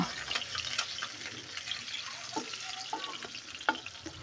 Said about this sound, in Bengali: মাছগুলোকে আমি একটু হালকা করে ভেজে নেব, খুব বেশি লাল লাল করে মাছগুলোকে ভাজবো না।